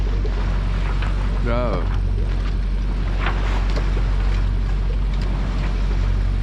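A sailboat motors out under its engine in almost no wind, producing a steady low drone with wind rush on the microphone. A person speaks briefly over it.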